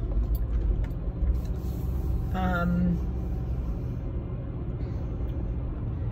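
Steady low road rumble fills a moving car's cabin, with a short hesitant vocal sound partway through.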